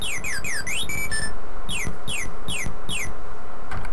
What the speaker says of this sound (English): His voice sounds like a bird.